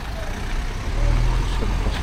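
Cars and trucks roll past on a nighttime street in Khao Lak, Thailand, a steady low traffic rumble that swells as a heavier vehicle draws near.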